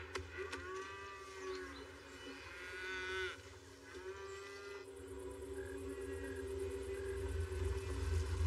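Cattle on a ranch moo several times in long, low calls, fairly distant, against a steady rumbling background with no talk.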